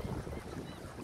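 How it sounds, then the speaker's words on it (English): Strong outdoor wind buffets the microphone in a steady, loud low rumble lasting about a second, with no voices heard. "it's so windy and it's hard to talk over the wind"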